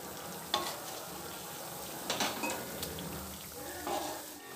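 Thekua, a Bihari sweet, fries in oil over a low-medium flame with a steady soft sizzle, while a spatula occasionally clinks and stirs against the pan.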